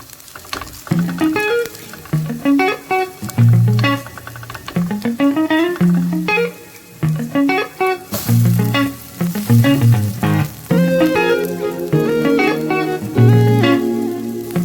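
French toast slices frying in hot oil in a pan until golden brown give off a steady crackling sizzle throughout, running beneath loud melodic background music.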